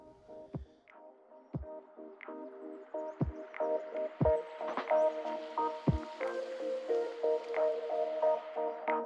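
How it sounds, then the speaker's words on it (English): Soft, wet squishing and light sticky slaps as pancake batter is gently folded with a spatula in a home kitchen, a few sharp taps on the bowl early on, close and quiet. "All right, so gently just fold in."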